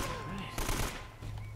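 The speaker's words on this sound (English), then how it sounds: "Okay, got the AK-47. Let's take out this guy here." A short burst of AK-47 fire in Uncharted: Drake's Fortune, a quick cluster of loud rattling shots over a low background hum.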